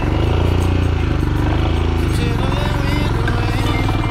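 A motorcycle rumbles close up over a rocky trail near La Danta, Antioquia. Its engine throbs with shifting revs as it works across the stones, loud and steady, with a voice speaking over it.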